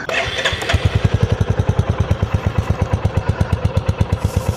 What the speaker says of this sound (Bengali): এটা হচ্ছে আইডেলের সাউন্ড গাড়িটা